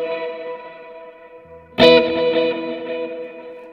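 An electric guitar played through a Kemper with a big natural hall reverb: quiet sustained notes, then a single struck chord that rings out into a long, spacious, slowly fading reverberant tail.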